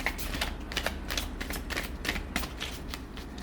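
Tarot cards are shuffled by hand in quick, close riffling bursts, a papery flutter of rapid slaps repeating in an uneven rhythm with no speech.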